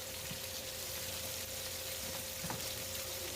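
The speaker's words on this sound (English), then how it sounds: "This is me browning, and of course I'm using the skillet" Oxtail browning in a skillet gives a low, steady sizzle with faint crackles and an occasional scrape, quiet and continuous over a constant hum.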